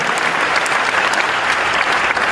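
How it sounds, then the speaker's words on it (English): A big seminar crowd applauds a motivational speaker, loud, dense clapping that fills the room evenly and continuously for a couple of seconds with no talk over it. "Thank you for the applause"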